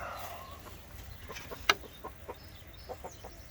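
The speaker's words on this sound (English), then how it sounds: "we got chickens and they're dropping down and they're just eating them" Chickens feeding on small hive beetle larvae dropping from abandoned honeycomb frames, giving soft scattered clucks and one sharp peck or squawk, fairly quiet against outdoor background.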